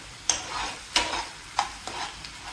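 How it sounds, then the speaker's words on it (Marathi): Tomato puree cooking in oil is stirred with salt, a spoon scraping the pan in four or five regular strokes over a faint sizzle, close and without talk. "मीठ पूर्णपणे छान प्रकारे टोमॅटो प्युरीमध्ये मिक्स करून घेणार आहोत"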